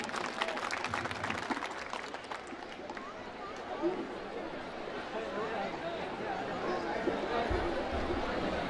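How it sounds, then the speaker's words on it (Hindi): A crowd claps loudly to welcome a speaker at a public event at a dargah, and the steady applause continues for several seconds with murmuring voices mixed in. "जोरदार तालियों से स्वागत करें।"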